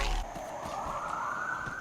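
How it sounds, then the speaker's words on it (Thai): A siren wails in the survival video game Grounded 2, a steady rising tone sounding loud and continuous over faint background game noise. "ผมได้ยินเสียงรถตำรวจ"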